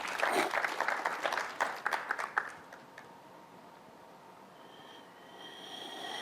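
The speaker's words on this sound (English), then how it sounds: "We appreciate that you applaud yourselves." Audience applause in a hall rises as a burst of clapping, dense at first and then thinning to scattered claps before dying away into room quiet after about three seconds.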